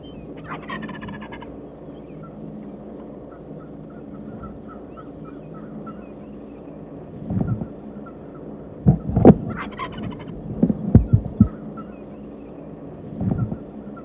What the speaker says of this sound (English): Other birds gobbling in the distance